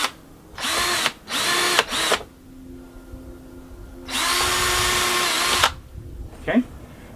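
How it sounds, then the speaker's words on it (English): A power drill bores holes into a wall through a paper template, running in three short bursts and then one longer sustained run, loud and close with no talking. "I'm going to just simply drill holes"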